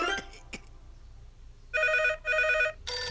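A telephone rings in a mobile emergency-vehicle game as a call goes out to the ambulance, three loud bursts of electronic ringing with short gaps, following a couple of faint clicks.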